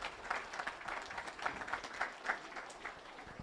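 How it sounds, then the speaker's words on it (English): Guests at a speedway banquet clap in a light, scattered round of applause, individual claps audible in a loose rhythm, quiet and somewhat distant in the room. "Give them a big round of applause."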